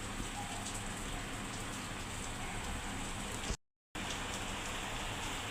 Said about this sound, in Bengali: খুব ভালো বৃষ্টি পড়তেছে, ঠান্ডা ঠান্ডা।